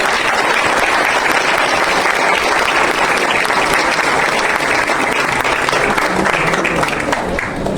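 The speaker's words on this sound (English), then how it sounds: "Let's show our appreciation in another big round of applause for their hard work and spirit." A school audience breaks into loud, sustained applause after a student performance at an Independence Day celebration, a dense wash of clapping hands that stays at full strength before easing slightly at the end.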